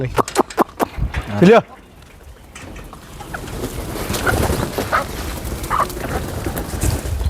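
Free-range desi hens come in through an open gate at a cattle-shed farm, a short burst of clucking and calls near the start, then people talking over faint background bird and animal sounds.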